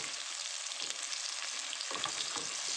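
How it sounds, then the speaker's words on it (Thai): Garlic stir-fried in a pan gives a steady, bright sizzle of hot oil with faint stirring scrapes, continuous and fairly soft throughout, with no talking. "เคี่ยวพอให้กระเทียมหอมๆนิดหน่อย"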